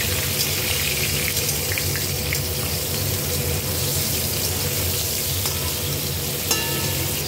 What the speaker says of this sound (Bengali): এই তেলে আমি কপিগুলো ভেজে নিচ্ছি